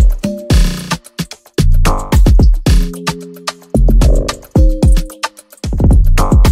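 A Sky Keys synth pluck plays a chopped, stuttering pattern of short bright notes with held tones between, loud and alone with no talking.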